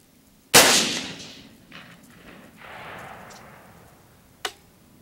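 A single loud rifle shot cracks sharply while sighting in at a paper target on a range, followed by a long decaying echo, faint rustling and a brief sharp click a few seconds later.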